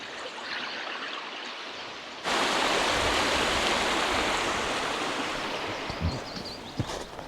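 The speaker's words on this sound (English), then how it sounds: "There's a bit of a river here as well. I don't know if you can hear it." A mountain river in an Irish park rushing steadily, a broad continuous roar of flowing water that grows louder partway through, with a few small knocks near the end.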